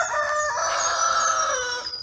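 Free-range chickens at feeding time in a shaded, wild farm yard, with a rooster crowing loudly and close over steady hen clucking for about two seconds, no talk.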